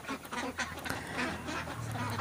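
Three-month-old laying ducks quack in a steady jumble of calls, several birds overlapping at close range over a noisy background, with no talk.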